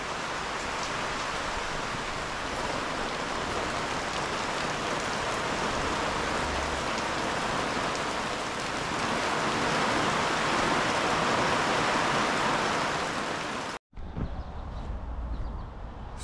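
Steady rain falling outside during a nomadic van trip, a dense continuous hiss of drops that briefly cuts out and then resumes more softly.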